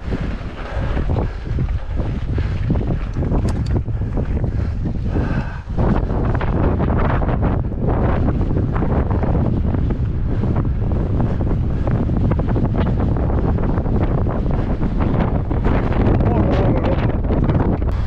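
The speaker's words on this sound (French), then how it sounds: "Fait un vent de maboule, c'est un truc de fou, j'ai jamais vu ça ici." Strong gusting wind buffets the microphone while mountain biking in the hills of Rosas, Spain, a loud continuous roar with rumbling bursts throughout and a brief dip partway, with a voice occasionally under it.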